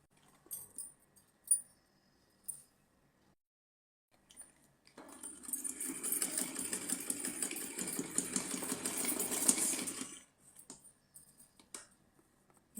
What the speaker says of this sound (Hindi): तो चलिए हम यहाँ से पहले सिलाई लगाना शुरू करते हैं।